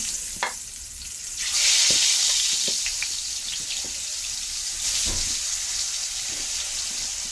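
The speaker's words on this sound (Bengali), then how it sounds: "এখন দিয়ে দিব আলুগুলো ভেজে নিব।" Potatoes frying in hot oil for a rohu fish and potato mash, with a steady, fairly loud sizzling hiss that swells after the first second and holds, broken by a few soft clinks.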